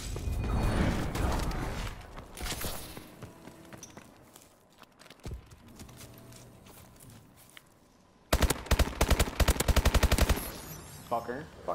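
Sniper rifle shots and bursts of automatic gunfire in a Call of Duty multiplayer match, loud and rapid around the start, quieter mechanical clicks and scattered shots mid-way, then a dense fast volley of shots near the end.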